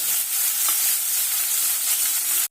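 Onion and tomato frying in a pan with curry leaves, giving a steady, close, loud sizzle that fills the whole stretch without pause, alone with no voices.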